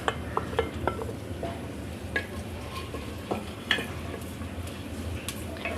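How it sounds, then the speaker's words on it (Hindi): Sliced onion hitting hot oil in a pot, frying with a low steady sizzle and occasional stirring clinks of a spoon against the pan, close and moderately quiet with no talk. "प्याज को हमने उस वक्त तक फ्राई करना है जब तक प्याज थोड़ी नरम ना पड़ जाए"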